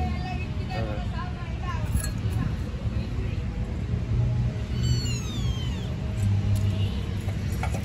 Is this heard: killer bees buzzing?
no